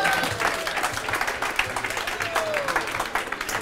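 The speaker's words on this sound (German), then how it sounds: "Gebt mal einen richtigen Applaus." Audience applause for three chefs at a regional celebrity cooking event, a steady dense wash of clapping throughout, fairly loud and close, with a faint voice briefly audible beneath it.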